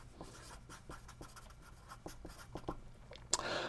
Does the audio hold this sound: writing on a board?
yes